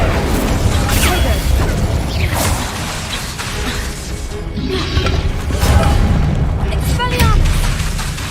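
Confringo and Incendio spells detonate in Hogwarts Legacy, several loud crashing blasts and whooshes going off in quick succession amid busy combat noise, with shouted talk over them.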